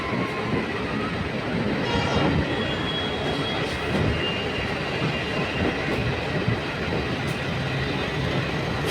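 A train runs on a lightly used back-road line near Alipurduar, between New Cooch Behar and Alipurduar. A loud, continuous rumble carries faint clickety-clack and the odd wheel squeal, with no talking.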